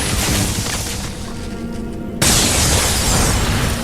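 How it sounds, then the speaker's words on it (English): An explosion in the stealth-action video game Dishonored 2 sets off abruptly partway through, a loud full-spectrum blast that lifts the level and then holds as a sustained roar over steady game ambience and a low mechanical hum. "There's that explosion."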